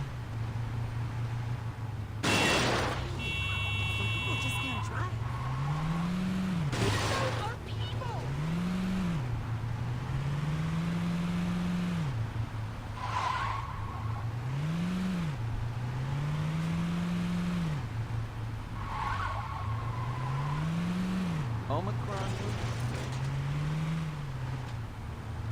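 A station wagon in Saints Row 2 drives with a steady engine drone whose pitch rises and falls in repeated revving swells, with occasional brief clatters and sharp game effects, while a voice talks over much of it.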